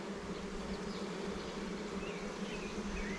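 Honeybees in a nucleus hive buzz in a steady, dense drone throughout, close and continuous with no talking, as the nuc is opened for a one-month inspection.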